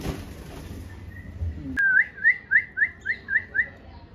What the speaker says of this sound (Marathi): सिटी मारतो